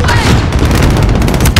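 A rocket explosion in the video game Call of Duty: Modern Warfare, a loud, sustained roaring blast mixed with gunfire and rumbling debris, saturating the whole clip.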